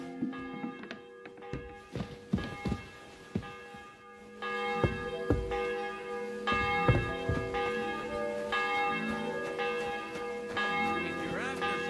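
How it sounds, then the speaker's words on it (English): A church bell tolls in the medieval game Kingdom Come Deliverance 2 before an execution, ringing in repeated resonant strikes with long overlapping decays, along with scattered taps and footstep-like thuds nearby. "The 11th toll of the bell."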